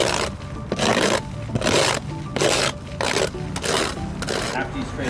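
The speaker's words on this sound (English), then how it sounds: "especially with cedar shake, it's very hard to get into those grooves, so you can scrape against the grain" A scraper drags roughly across the grain of cedar shake siding in repeated long rasping strokes, each about half a second, with short pauses between them, loud and close.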